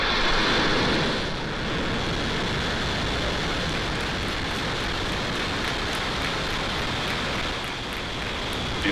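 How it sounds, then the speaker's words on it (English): Rocket ignition and liftoff carrying the Argentine San Martín satellite, heard as a loud, steady roar with broad rumble that holds constant through the whole span, no voices over it. "Ignition, and liftoff."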